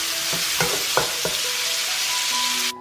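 Squid and soy sauce sizzle in a hot wok while being stir-fried, with a steady hiss and a few scraping stirs of the spatula, close up, before the heat drops away at the end.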